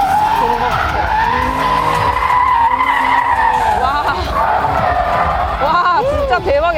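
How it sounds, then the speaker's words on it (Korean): A drifting car's tires screech continuously at a Hyundai and Toyota motorsport festival, the squeal rising and sliding in pitch as the car swings around, loud and nearby over a murmuring crowd. "조용한데 이렇게 타이어 소리만 나다 보니까 약간 이질적인 느낌까지 듭니다."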